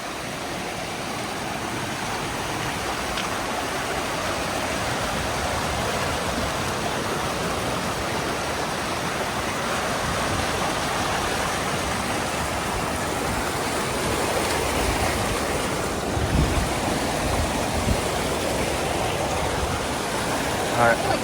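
Clear creek water on the Lost Coast Trail runs steadily, a continuous broadband rush that stays close and even throughout.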